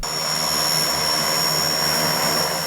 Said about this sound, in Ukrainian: винищувачі су 27 та су 27 УБ, а також красень, військово-транспортний літак Іл-76МД приземлились на військовому аеродромі у Івано-Франківську